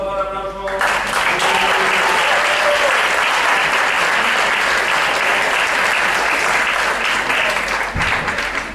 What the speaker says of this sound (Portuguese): por favor, aplauso